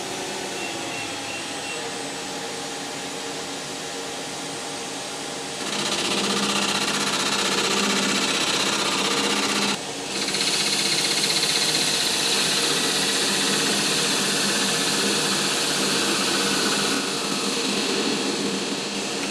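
A lathe spindle spins at 1,200 RPM while machining a part for a Stoker steam engine, a steady loud mechanical whine and hum that rises in level partway through with a brief dip, no talking.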